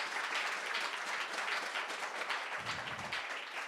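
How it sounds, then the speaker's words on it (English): An audience claps for a poet at a state poetry recitation finals, a steady wash of applause that carries on throughout at moderate loudness. "Team clap for everyone."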